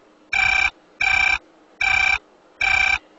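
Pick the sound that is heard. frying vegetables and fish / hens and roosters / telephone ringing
telephone ringing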